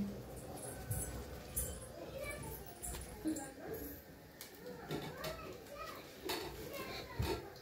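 Dishes and pots clatter and scrape while being scrubbed in a village household, light intermittent clinks and knocks mixed with children playing and people talking nearby.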